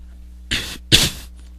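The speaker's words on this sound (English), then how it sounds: "My ears eventually pricked up on the slight coughing coming from behind." Two short, breathy coughs a moment apart come from someone behind the listener, the second a little louder, with no talking around them.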